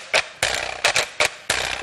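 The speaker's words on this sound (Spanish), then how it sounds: "Pues suena así, es un raspador, un raspador," A raspador, a scraper percussion instrument, is played in a TV studio with five short, sharp rasping strokes in an uneven rhythm. The strokes are close and bright, and no one speaks.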